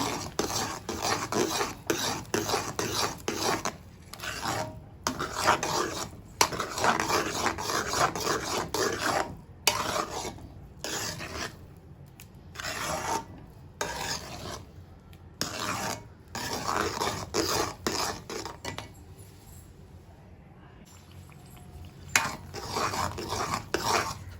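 Mango kesari being stirred in a pan, a steady scraping and rubbing of a spoon against metal with clinks, repeated in uneven strokes with brief pauses, close and fairly quiet.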